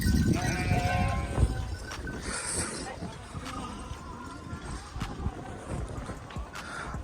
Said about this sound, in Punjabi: ਕੋਈ ਭੇਡਾ ਚਾਰ ਰਿਹਾ ਕੋਈ ਬੱਕਰੀਆਂ